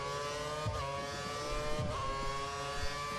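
Formula 1 cars in a racing video game, engines holding a steady high-pitched whine with shifting harmonic tones and occasional deeper revs, continuous and fairly loud, no talking.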